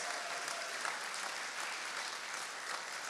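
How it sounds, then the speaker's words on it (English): An audience applauding teachers at an event, a dense, even burst of clapping from many hands, sustained and fairly distant. "Can we please give a round of applause"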